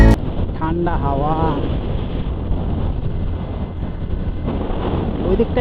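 Cold wind rushes steadily across the microphone on an open-air ride, a continuous low buffeting roar, with a voice briefly heard near the start.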